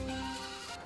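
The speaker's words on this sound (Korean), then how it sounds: "운동도 하고 사료값도 절감된다는 흑염소 방목" Black goats grazing on a wide open pasture bleat in a brief, continuous wavering call under steady outdoor background noise.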